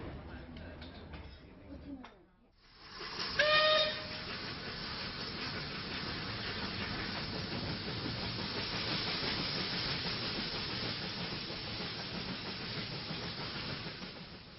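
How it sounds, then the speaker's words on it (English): A steam train rumbles steadily along the tracks with a constant hissing roar, preceded by a brief whistle-like tone and a short dip in sound. "This train ran on the tracks"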